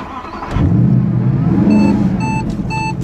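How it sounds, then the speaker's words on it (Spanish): A 2014 Mercedes SLS AMG Black Series engine revs up on track at Willow Springs International Speedway in California, a loud surge over cabin noise punctuated by short electronic chimes. "Ahí tienen el fabuloso sonido del motor."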